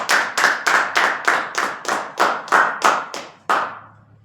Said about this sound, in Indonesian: Mari kita beri aplaus untuk kita bersama-sama.